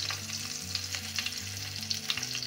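Stuffed brinjal (baingan kalonji) filled with kalonji masala sizzles as it is turned over in hot frying oil, a steady, close crackle broken by soft scraping bumps, with no voices.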